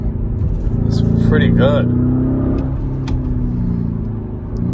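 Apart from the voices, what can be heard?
Lamborghini Urus engine accelerating in second gear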